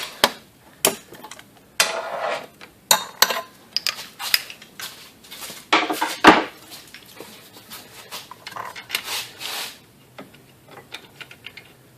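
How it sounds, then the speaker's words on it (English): Metal socket dropped and clattering while an EGR valve is being fixed on a Chrysler Town & Country caravan, irregular sharp metallic clinks and taps scattered over twelve seconds with a louder clatter near the middle. "And then I drop my socket."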